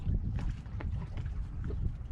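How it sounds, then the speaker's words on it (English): A low rumbling engine drone with wind buffeting the microphone, a motorboat passing close by without talk. "So, oh, 2 power boats."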